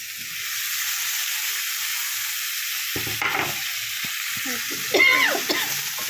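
Tomatoes go into a pan of frying coriander, mint, curry leaves, garlic and green chillies for a Telugu tomato chutney, giving a steady close sizzle with scraping stirs, a few clanks of the spoon and a louder burst of hissing near the end.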